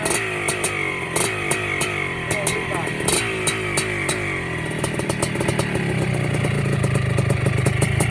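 Restored 1983 Yamaha YZ490 two-stroke motorcycle engine running right after being started, a loud, close, rattling idle with steady crackling pulses and clatter, gradually rising.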